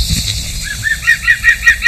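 Green woodpecker giving a laughing call in the British countryside, a rapid series of bright repeated notes rising in loudness over a short stretch, heard alone against faint outdoor ambience.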